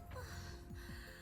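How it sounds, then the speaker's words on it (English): A character in the Steins;Gate visual novel gasps for breath, a short, sharp intake of air heard alone and up close. "Kurisu gasps for breath"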